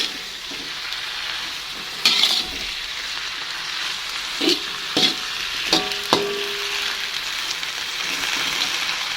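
Water spinach (kangkung) stir-fried in a pan gives a steady loud sizzle with occasional clinks and scrapes of stirring, close up and with no talking.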